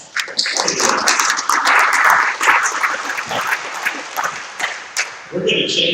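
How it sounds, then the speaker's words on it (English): An audience claps for a guest at a Rotary club meeting, a fairly loud, uneven patter of many hands with voices talking over it, fading near the end. "Let's give him a hand clap."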